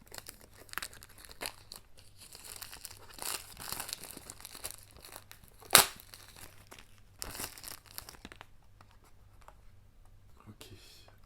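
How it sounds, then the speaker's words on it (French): Packaging for a limited-edition Metropolis Blu-ray steelbook is unwrapped, with soft, intermittent crinkling and tearing of plastic wrap and a sharp crack partway through. A voice talks quietly between the rustles. "je le déballe"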